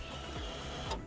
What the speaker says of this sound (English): Fuel pump prime.